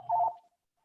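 A mobile phone goes off during a lecture: a single short electronic ring tone, clear and mid-pitched, then quiet.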